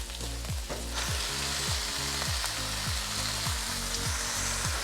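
Beef sizzles and fries loudly in a pan for Indonesian rawon black beef soup, with steady crackling and rhythmic stirring scrapes repeating throughout, no voices.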